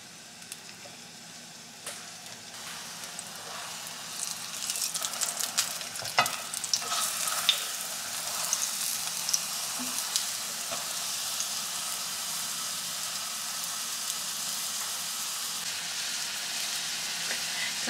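Spring roll wrappers pan-fry with a soft, steady sizzle, joined by bursts of crackling and scraping as they are handled in the pan, fairly faint and without talk.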